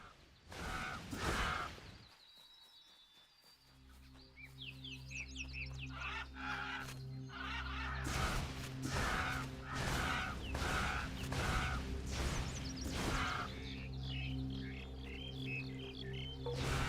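Carrion crows in Titan Quest give harsh, repeated calls in a rapid series, fairly close and clear, with a steady ambient game hum underneath and a brief quiet gap early on.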